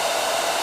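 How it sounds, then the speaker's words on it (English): A Babyliss hair dryer blows close up, a steady, loud whoosh of airflow with no change in pitch and no voices. "We just need to turn on this baby Bliss hair dryer."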